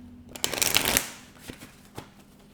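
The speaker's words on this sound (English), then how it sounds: "Last shuffle." Deck of tarot cards riffled in a quick, crisp shuffle of flutters, followed by a couple of sharp taps as the cards are squared, close and clear in a quiet room.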